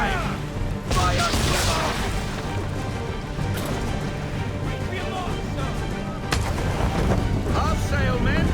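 Ship cannons firing in Assassin's Creed III at sea, a series of heavy booms and crashes over rushing water and wind, with voices shouting over the naval battle.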